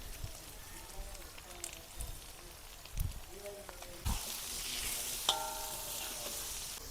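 Spice powders frying in hot oil for a prawns fry: a soft, continuous sizzle with occasional stirring scrapes, fairly quiet and close.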